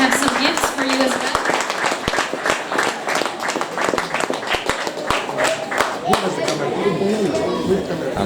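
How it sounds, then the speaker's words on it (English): Audience applause for a panel at an event: steady, dense clapping from a crowd lasting throughout, with voices and chatter mixed in beneath the claps. "I would like everybody to give a big applause for the panel here"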